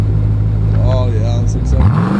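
Dodge SRT with a muffler delete pulling away from a standing start, its exhaust building into a rising drone over a steady low engine hum, with brief talk in the background.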